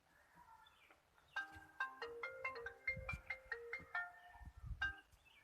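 A melodic electronic ringtone plays a quick sequence of bright tones, repeating once, fairly faint with no talking.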